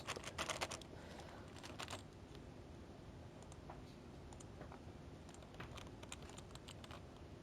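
Computer keyboard typing while a t-shirt design is worked on, with quick soft key clicks in short bursts, busiest at the start and then sparser and quiet.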